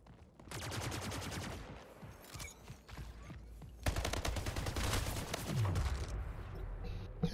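Rapid bursts of plasma rifle fire in the video game Splitgate during a team deathmatch, dense continuous automatic shooting with game effects layered throughout.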